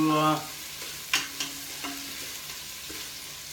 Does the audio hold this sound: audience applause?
no